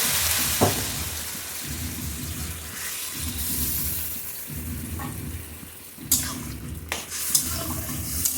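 Dal tipped into a pan of sizzling raw papaya, with a steady frying hiss close by, punctuated by a few sharp clinks and scrapes of utensils.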